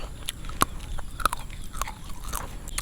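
Crispy fried scorpions are bitten and chewed up close, giving sharp crunches and brittle crackles in an uneven rhythm over a quiet background.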